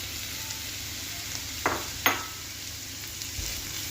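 Onions, mushroom stems and speck salami fry in a pan with a steady, soft sizzle, broken by a couple of brief scraping clinks from stirring.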